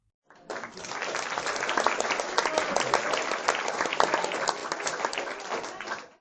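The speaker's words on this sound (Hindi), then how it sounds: "पूरी कक्षा उसके लिए तालियां बजाने लगी" A classroom of children bursts into applause, the clapping rising quickly after a brief silence, holding dense and lively for several seconds, then stopping abruptly; no words are spoken.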